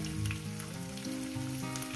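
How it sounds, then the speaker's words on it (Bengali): Fish frying in a pan, giving a dense, continuous close-up sizzle that stays even and fairly quiet over a brief moment, with no voices. "আর এই সাইডে আমি মাছটাকে ভেজে নেব"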